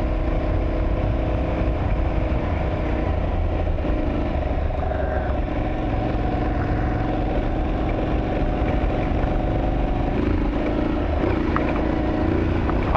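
An Aprilia Tuareg 660 motorcycle being ridden, a continuous engine drone with wind rush that holds steady throughout, rising slightly near the end, with no talking.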